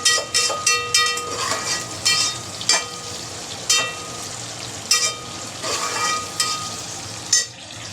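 Tomatoes sautéed in hot oil in a pan for sambar, with a steady sizzle under repeated rhythmic scraping strokes of a spoon stirring, close and fairly loud throughout.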